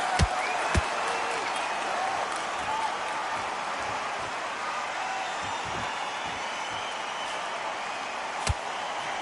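A boxing arena crowd applauds and cheers in a broad, steady roar, with a few sharp slaps or bangs standing out. A voice may be faintly audible underneath the noise.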